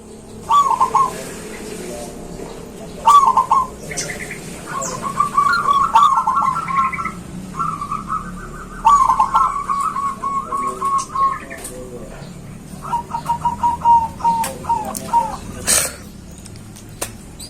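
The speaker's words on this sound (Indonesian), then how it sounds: "lihat dulu 2 video perkutut saya ini yang ketika manggung bersuara besar" A zebra dove coos loudly in repeated short bursts of rolling, warbling notes, separated by brief pauses, close and clear over faint background noise.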